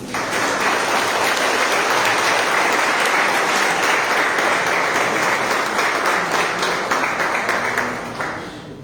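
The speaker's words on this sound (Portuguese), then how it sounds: "E as palmas ao Senhor." A large church congregation at a worship service claps loudly and steadily for several seconds, a dense wash of applause that fades away at the end.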